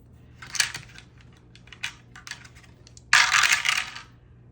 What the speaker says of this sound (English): I can barely pick up the dice today